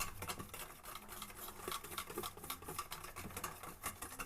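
Cake batter with oil is beaten by hand in a bowl, giving a quick, continuous patter of wet slapping and whisking strokes, close and fairly quiet, with no talking.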